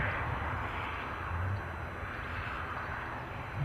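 Ryanair Boeing 737 MAX 8-200 taxiing out at Edinburgh airport, a steady, fairly distant jet engine hum and rumble, even in level with no breaks over a few seconds.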